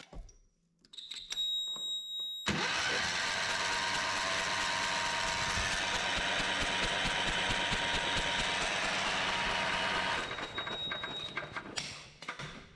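A 1979 Kohler 12 hp K301 single-cylinder engine fires up after an ignition repair, running loud and steady with a rough idle for several seconds before winding down, with a brief high electrical whine at the start.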